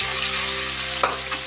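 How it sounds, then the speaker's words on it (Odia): Native prawns frying with spices in a pan give a steady, dense sizzle that fills the whole clip, with a brief stir or clink near the end and no voices. "ଭଜା ଚାଲିଛି ସାଙ୍ଗମାନେ ଦେଖିପାରୁଥିବେ।"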